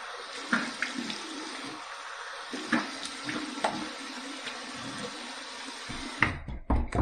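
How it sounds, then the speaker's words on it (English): Cold tap water runs steadily into a bathroom sink for a rinse after shaving with an open-comb safety razor, a close continuous splash broken by a few knocks and clatters, then cut off near the end. "Here's my cold water rinse."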